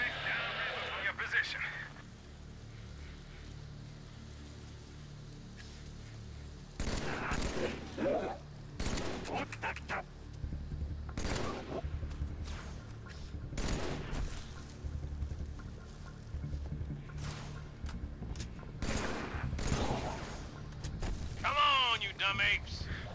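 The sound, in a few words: battle rifle gunfire in a video game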